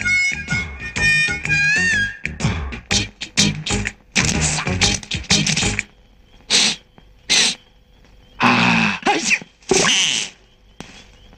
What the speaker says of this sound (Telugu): అయినా తుమ్ము తూర్పు నుంచి వినపడుతుందేంటి?